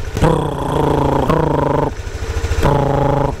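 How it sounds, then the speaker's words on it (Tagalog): A Yamaha Aerox scooter idles with a gritty, rattling growl from a faulty CVT that surges in short bursts, then briefly drops away between them as the throttle is released. "parang may bato na nakalagay dito sa CVT natin"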